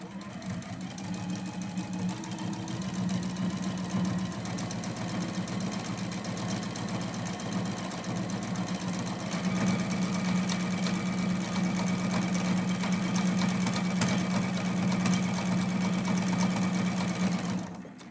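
A sewing machine stitches down quilt appliqué in a steady, continuous motor hum with a rapid needle rhythm, running close and unbroken, slightly louder in the second half, then stopping at the end.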